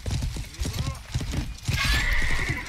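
A horse's hooves clatter in a fast gallop in the medieval game Life is Feudal: Your Own, ending with a loud, close neighing whinny.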